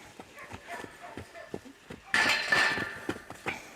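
A horse trots on a lunge, hooves clip-clopping in a steady, moderately near rhythm, with a brief burst of clattering noise partway through.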